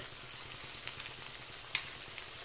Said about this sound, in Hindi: जितनी देर में हमारा प्याज और अदरक भून रहा है